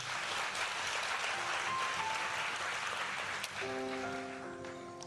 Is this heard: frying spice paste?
no